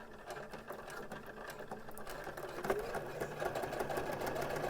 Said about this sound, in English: when sewing over the braid, you might want to go a little bit slow because the machine kind of has to go up and over that